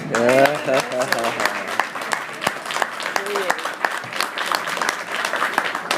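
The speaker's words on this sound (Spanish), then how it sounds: "Ahora podemos aplaudir." Loud audience applause, dense clapping throughout, with a voice speaking briefly at the start over the clapping.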